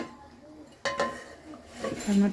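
A metal lid goes onto a cooking pot of hilsa fish curry with potato and eggplant, making a couple of quick clinks, close and moderately loud, while someone speaks softly around it.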